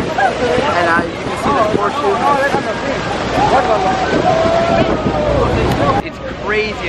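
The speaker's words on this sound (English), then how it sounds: "It is crazy windy out here." Strong wind at Niagara Falls near the churning rapids buffets the microphone with steady rumbling gusts while people talk and chatter close by.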